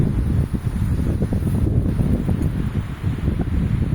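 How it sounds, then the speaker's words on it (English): Wind gusts around someone sitting up in a tree, a loud, rough, low buffeting rumble against the microphone that swells and eases over a few seconds. "Whoa, wait, wind."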